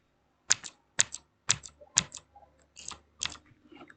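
Loud, sharp clicks of Outemu blue mechanical keyboard switches, about six distinct presses at a steady, deliberate pace, close up with no talking.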